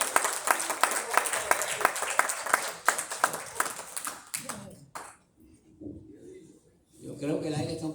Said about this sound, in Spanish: aplauso al Señor Jesucristo